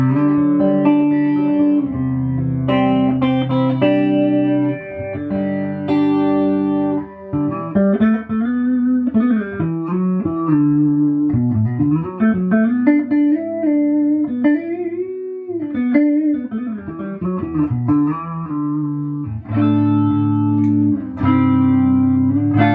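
Electric guitar through a Roland JC-77 amplifier's chorus effect, playing melodic lines and chords with a shimmering, wavering sound, sustained notes swirling with reverb, played alone without any voices.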